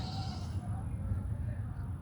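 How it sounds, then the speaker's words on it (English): Baby goat on a farm bleating close by in short wavering calls, with faint background noise and some talk around it. "here's one of my baby goats"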